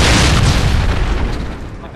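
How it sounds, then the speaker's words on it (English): A predator missile strike in a search and destroy match, heard as a loud, sustained low rumbling boom that fills the whole moment and slowly fades. "A friendly predator missile inbound."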